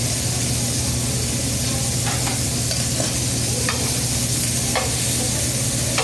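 Pork sears in a hot pan with a steady, close sizzle and broad frying hiss, broken by a few faint clicks of utensils; no talking.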